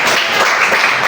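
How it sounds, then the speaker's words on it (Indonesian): Brief burst of classroom applause for a student group that has just presented, a dense, loud patter of many hands filling the moment. "Tepuk tangan buat kelompok."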